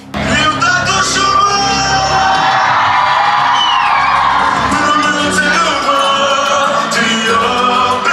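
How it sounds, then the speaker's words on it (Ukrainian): A concert crowd in Lviv whoops, yells and cheers in a loud, sustained ovation as a performance begins on stage, voices blending into a continuous roar close around the listener. "І ось початок смартфони догори та овації на сцені."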